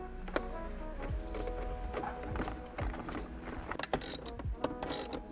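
Screws being backed out of the center console of a Mercedes-Benz C-Class W203, with a quick series of close ratcheting clicks, mechanical rattles and small knocks continuing throughout.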